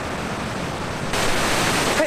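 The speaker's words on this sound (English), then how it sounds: "this waterfall is called Dinyandi, because it's really loud" Dynjandi, a loud waterfall in Iceland, roars as a dense, continuous broadband rush, close and powerful, swelling louder partway through.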